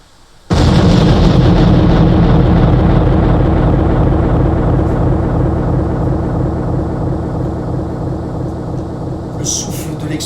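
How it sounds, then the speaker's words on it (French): A loud bomb explosion bursts in suddenly after a brief quiet start, then a dense roaring blast and rumble sustains at high level for nearly ten seconds, fading only slightly toward the end. "Le souffle de l'explosion me projette vers l'avant."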